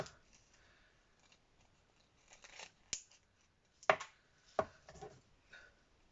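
Scissors snip through paper for a shabby-style Halloween scrapbook box, with faint rustling followed by a few crisp close cuts, quiet overall.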